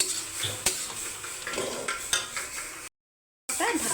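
Radish and soybean curry with slit green chillies is stirred in a pan, the spoon scraping and clinking against the metal over a soft sizzle, with a brief silent gap before the scraping resumes.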